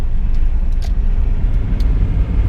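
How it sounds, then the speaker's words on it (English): A 40-year-old economical car, capable of around 80 mpg, accelerates hard onto the motorway, its engine giving a steady, loud low drone with road rumble throughout. "Pulling back onto the motorway will give the car all she's got."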